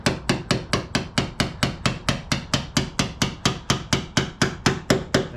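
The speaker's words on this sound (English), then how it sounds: "Hammering." Hammer blows strike car parts during disassembly of a car with many previous owners, about twenty sharp metallic hits in a fast, even rhythm, loud and close with no talking.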